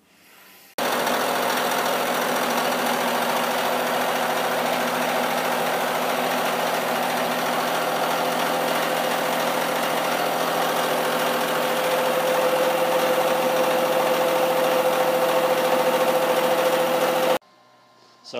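Steel angle plates being cut on a metalworking machine, a steady loud mechanical drone with grinding texture running continuously for about sixteen seconds, then stopping abruptly.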